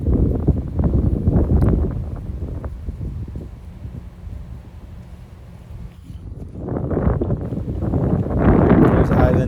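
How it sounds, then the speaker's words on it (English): Wind gusts across an open golf course, producing a loud, steady roar of buffeting against the microphone that eases in the middle and then builds again toward the end. "You can see and hear the wind now picking up."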